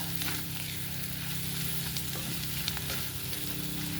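Onion-garlic masala powder frying in hot oil for an aloo matar bhaji, a steady low sizzle and crackle close by, with a few faint scrapes of a spoon stirring it.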